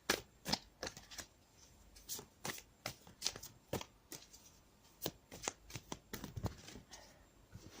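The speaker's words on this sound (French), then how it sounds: "Maintenant je vais tirer une carte pour le domaine sentimental affectif." Cartomancy cards are handled and drawn from a deck in a quiet room, giving a run of sharp, close papery flicks and taps at an irregular rhythm.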